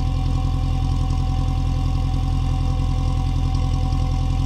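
A car engine idling steadily right at a cold exhaust pipe that is dripping condensed water, a loud, even low rumble with a regular pulsing beat that holds for the whole stretch, with no voices over it.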